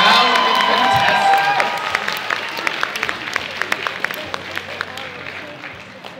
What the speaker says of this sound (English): Give a round of applause to our first round of contestants.